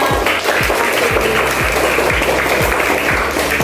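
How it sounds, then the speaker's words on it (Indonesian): A classroom of students claps for a classmate, a loud, dense wash of applause that runs steadily and alone for several seconds. "tepuk tangan untuk teman kita"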